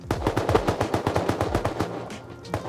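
Rapid automatic gunfire in the survival video game Rust, a loud close burst of regular shots for about two seconds followed by a few scattered single shots.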